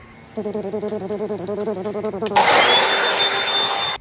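Compressed-air blower cleaning the hybrid battery compartment of a Toyota Aqua or Prius C, a loud close hissing blast starting midway after a voice and running steadily to the end.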